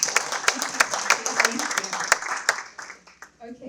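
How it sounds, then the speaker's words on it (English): Audience at a multiculturalism community event breaks into applause, sharp individual claps standing out at first, then the clapping thins and fades toward the end. "Can we give a round of applause to her?"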